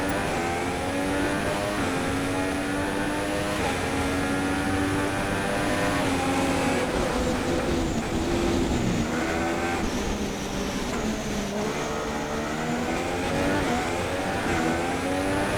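A Formula 1 car engine screams in F1 2016, loud and close, revving up through the gears in rising sweeps with a brief dip and pickup partway through.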